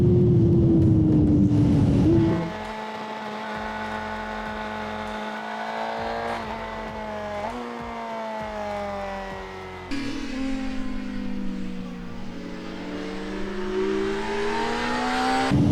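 A Honda CBR600RR 2024 sport motorcycle runs on a wet race track, its engine droning loudly at partial throttle with pitch rising and falling through gear changes, a sharper high rev at the start.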